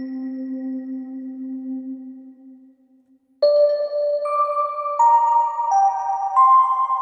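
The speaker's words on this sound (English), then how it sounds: "We already have that pluck sound" Bright synth pluck notes ring out alone in a music production session, following a lower sustained tone, stepping through a short sequence of clean, separate pitched hits.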